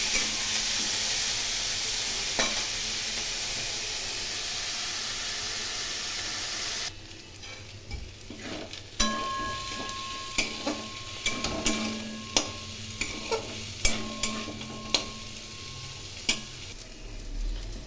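Steady frying hiss at first, then quieter sizzling over low flame broken by repeated sharp scrapes and taps of a spatula stirring potatoes, prawns and onion in the pan.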